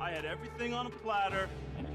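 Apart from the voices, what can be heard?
None of the usual background noises is heard.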